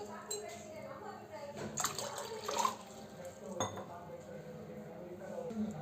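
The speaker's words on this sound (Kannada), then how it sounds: "ನಾನು 3 ಗ್ಲಾಸ್ ನೀರು ಹಾಕ್ಕೊತಾ ಇದ್ದೀನಿ." Three glasses of water are poured into a pot for ragi malt, faint splashing pours mixed with clinks of glass and metal, close but quiet, with a voice talking over it.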